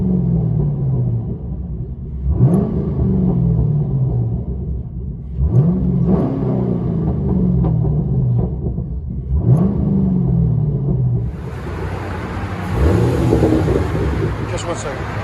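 A 2010 Chevy Camaro SS with a 6.2L V8 and headers revs its exhaust in three or four separate deep bursts that each rise and fall, then a louder, rougher roar with hiss takes over near the end.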